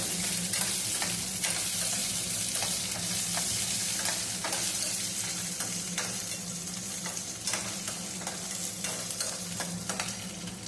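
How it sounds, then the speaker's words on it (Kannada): Red chillies and fenugreek seeds dry-roast in a pan with a steady, close crackling sizzle, punctuated by repeated scraping stirs throughout. "ಮೆಣಸನ್ನು ಹುರ್ಕೊಳ್ಳೋಣ. ಜೊತೆಗೆ ಮತ್ತೆ ಮೆಂತ್ಯ ಹಾಕ್ತಾ ಇದ್ದೀನಿ. ಸ್ವಲ್ಪ ಬಿಸಿ ಮಾಡ್ಕೊಳ್ಳೋಣ"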